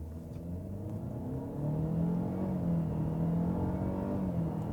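A 2019 Cadillac XT4 luxury SUV with all-wheel drive and 237 horsepower accelerates in sport mode from inside the cabin. The engine hum climbs steadily in pitch under a smooth, muffled road drone, and nobody talks.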